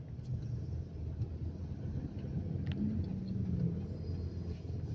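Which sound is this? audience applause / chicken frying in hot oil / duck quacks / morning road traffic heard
morning road traffic heard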